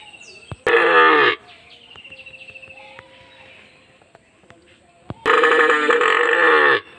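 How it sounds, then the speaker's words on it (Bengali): A calf and its mother cow give two loud, drawn-out moos, one early and one near the end, with quieter rustling and faint background sounds in between. "দেখতে পাচ্ছ বন্ধুরা বাছুর আর মা কিন্তু সমান ডাকছে আমাকে দেখে"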